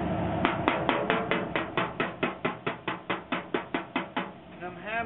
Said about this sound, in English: I'm hammering where the guide coat is gone, and I can see the block is dug in